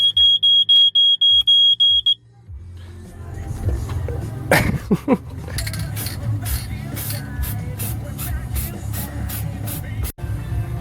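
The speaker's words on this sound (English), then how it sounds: "The CO alarm is working." A carbon monoxide alarm beeps rapidly in a steady series of short, high-pitched chirps, then stops as hissing and clattering noises follow, inside an RV van.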